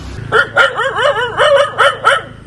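A dog barks repeatedly at close range at a wild elephant in a house yard in Wayanad, about six sharp yelping barks in quick succession with brief gaps between them.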